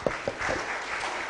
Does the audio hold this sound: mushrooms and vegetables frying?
no